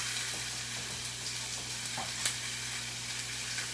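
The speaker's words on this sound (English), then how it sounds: "So that's why we're grilling watermelon." Watermelon sizzles on a hot grill, a steady close crackle and hiss with faint pops and scrapes and a low hum underneath.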